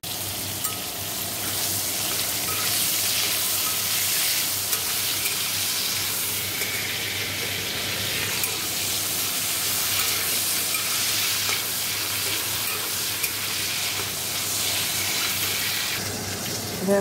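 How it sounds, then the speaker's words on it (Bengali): Prawns fry in a pan with a steady, dense sizzle that holds evenly throughout, broken by faint stirring scrapes and a few small pops, with no talking. "দেখো চিংড়ি মাছগুলো ভাজা হয়ে গেছে"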